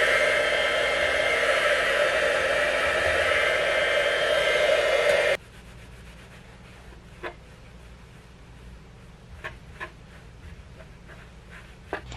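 A heat gun blows loudly and steadily, warming a 2019 Ford F150 fog light, then shuts off, leaving faint ticks and scraping from handling the lens.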